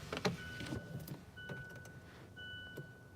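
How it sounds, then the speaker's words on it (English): A truck's electric windows are raised, with a quiet whining motor hum that comes in two stretches among soft clicks and cabin rustles. "I could put my windows back up"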